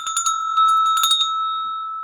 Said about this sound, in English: I'll show you my little bell. So this is my little bell.